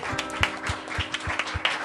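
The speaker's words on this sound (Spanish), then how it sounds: "Denle un aplauso" Small group clapping to welcome a newcomer at a church discipleship class, a sparse, uneven patter of close hand claps over a couple of seconds with no voices.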